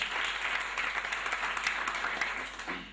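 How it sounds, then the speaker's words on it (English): Grade 12 students at a farewell gathering clap their hands together, making a dense, steady wash of applause that holds for a few seconds before easing slightly at the end. "I want to tell you guys to clap hands for yourself."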